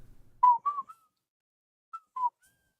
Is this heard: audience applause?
no